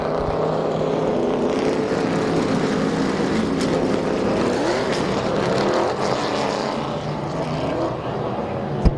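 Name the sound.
late model race cars racing at Midvale Speedway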